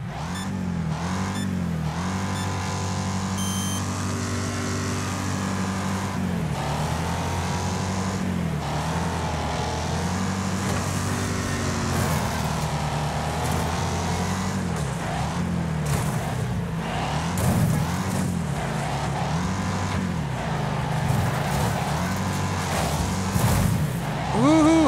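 Racing car engine in the demolition racing video game Wreckfest, a continuous droning roar rising and falling with gear changes, with occasional crashes and clatter throughout.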